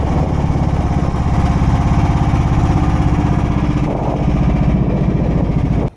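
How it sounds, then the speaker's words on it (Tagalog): A boat engine at sea runs with a loud, steady, close chugging drone that dips briefly, then cuts out abruptly as it stalls at the very end. "namatay ang makina"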